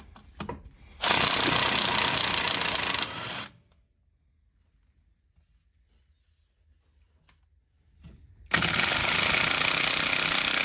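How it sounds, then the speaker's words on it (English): On a Pinzgauer 710M, a power tool with a 13 mm socket removes the fuel pump nuts in two loud, harsh rattling bursts separated by a long silence. "I'm going to remove the two nuts that hold the fuel pump on with a 13 millimeter socket."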